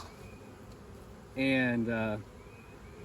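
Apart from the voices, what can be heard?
Carniolan honey bees buzzing around hives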